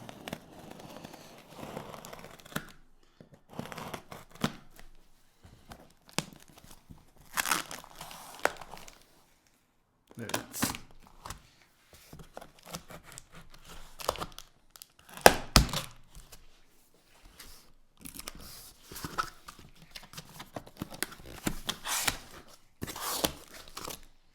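A Viomi V2 Pro robot vacuum package is opened with scattered crackling, tearing and thumping of cardboard and plastic wrap, irregular bursts separated by quiet pauses.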